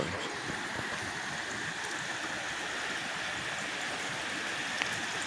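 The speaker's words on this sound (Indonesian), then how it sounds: "semakin dekat di depan adalah aliran sungai Cibentar" The Cibentar river flows through a rural village, making a steady, continuous rush of water that stays even and fairly close throughout, with no distinct breaks or separate events.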